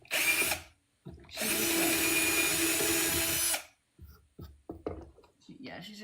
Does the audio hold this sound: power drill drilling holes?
yes